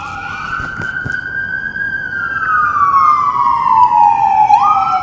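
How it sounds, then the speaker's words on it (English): A loud wailing siren sweeps slowly up and down, rising and falling in pitch, close and steady over faint traffic rumble. "Some sirens."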